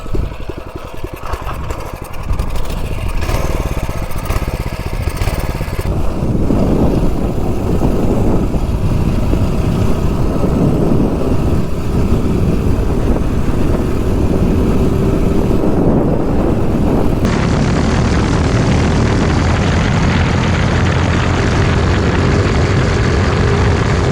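A Kohler CH270 mini bike engine runs loud and close. It revs up from a rough start into a sustained, steady high-rpm roar that holds for about twenty seconds with no talk over it.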